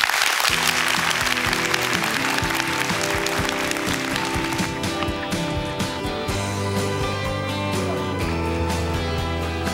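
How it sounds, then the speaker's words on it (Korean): Studio audience applause on a Korean TV quiz show runs under loud musical stings and tones, the clapping thinning as the music carries on. "격려의 박수 부탁드리겠습니다"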